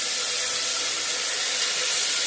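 Carrot, potato, cauliflower and peas sauté in a hot pan of oil for masala rice, giving a steady, loud, close sizzle that holds constant throughout with no voices.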